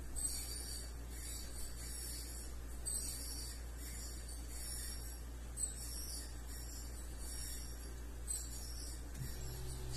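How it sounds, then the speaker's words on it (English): The fuel pump on a 2011 Ram 1500 with the 5.7 Hemi, run through a scan tool test, whirs faintly with a low steady hum and a repeating high ticking, quiet and alone. "So the fuel pump is running just enough to build fuel pressure."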